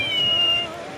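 A toy cat, bought from a roadside vendor at a traffic signal, gives a thin, steady electronic meow tone of under a second over a constant background hum, with no talking.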